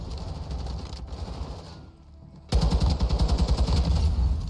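Rapid bursts of automatic gunfire from a Call of Duty Modern Warfare 2 ranked match, steady rattling fire with a short lull before a louder, denser volley resumes close by.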